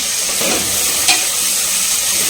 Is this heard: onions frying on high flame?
yes